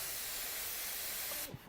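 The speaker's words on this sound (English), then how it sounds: "I higher the pressure and I'm able to spray these little tiny dots just to give the sparkle effect" An Iguana Micron airbrush at raised pressure spatters tiny paint dots, a steady close broadband hiss of spray running continuously before cutting off near the end, with no talking.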